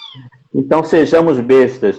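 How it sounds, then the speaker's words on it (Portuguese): House cats meow at home, a soft cry at first and then a louder, drawn-out mewing, with a person talking over them. "eu tenho um zoológico aqui em casa de gatos, aí eles ficam aperreando para vir pro colo."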